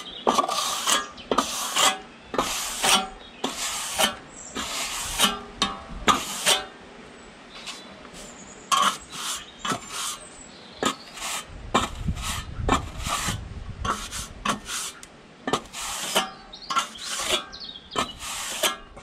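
A steel trowel rubs and scrapes across sand cement render while a window sill is being shaped, making repeated close rasping strokes in an uneven rhythm with brief pauses between passes.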